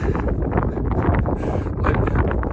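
Strong 50 mph wind batters the microphone on a Mauna Kea trail in Hawaii, a continuous loud roaring buffet with gusty surges and no voices.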